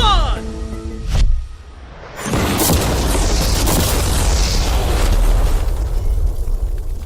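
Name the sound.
explosion blowing up a normal car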